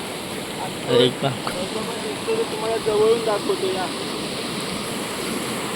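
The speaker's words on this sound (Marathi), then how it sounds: "मोठे झरे डोंगरातून खाली येत आहे." Several mountain streams pour down a hillside in the rainy Konkan forest, a steady broad rush of water close by, with someone speaking briefly over it.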